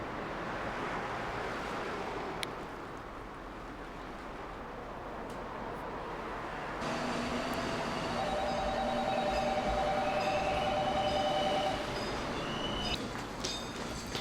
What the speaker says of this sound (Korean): 방음벽이 설치돼 있는데도 열차가 지나자 계기판이 요동친다.